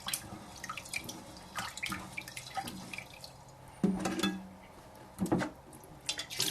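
Sushi rice is rubbed and rinsed by hand in water, giving soft, faint sloshing and gritty swishes with occasional splashy bursts and drips, close and quiet, with no speech.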